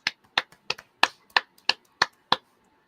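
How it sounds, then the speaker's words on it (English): Hand clapping on a wrestling review show: a single pair of hands claps nine times in a slow, even rhythm, each clap crisp, close and isolated against near silence. "I gotta clap."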